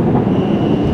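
A truck engine downshifting nearby, a loud low rumbling drone with a steady throaty growl lasting about a second.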